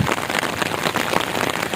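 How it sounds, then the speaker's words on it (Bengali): Heavy rain patters hard and fast on a surface nearby at Haripur bridge, a thick, busy spatter of drops with no talking. "বৃষ্টি হচ্ছে খুব"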